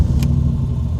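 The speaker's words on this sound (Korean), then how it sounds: "시동 한번 걸어볼까요?" A BMW E32 735iL with a swapped LS1 V8 and aftermarket high-lift cam rumbles loudly and close by, a deep, throbbing, uneven engine note with a brief sharp click early on.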